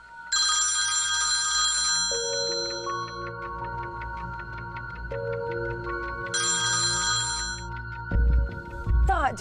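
A telephone rings repeatedly with bright bell-like tones, a call left unanswered, in bursts across the clip with a steady tonal backdrop and a couple of low thumps near the end.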